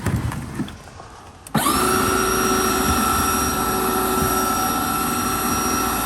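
A Snow Joe 24V-SS13 cordless electric snow shovel starts abruptly after quiet handling noise and runs with a loud, steady whirring whine, clearing about an inch of snow.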